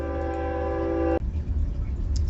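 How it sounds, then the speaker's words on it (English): A train horn sounds loud and sustained for about a second, then cuts off, leaving the rumble of the passing train continuing alone. "Sorry, there was a train coming through."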